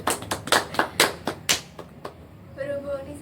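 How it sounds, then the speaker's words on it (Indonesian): A small group in a counseling session gives a brief round of applause, with about ten distinct, close claps in quick succession that taper off into quiet room tone and faint voices. "tepuk tangan untuk kita semua"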